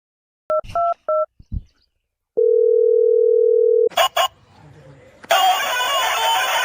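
A phone call is placed on a mobile to grandpa: a quick burst of keypad dialing beeps, then a steady tone held for about a second and a half, followed by noisy line static.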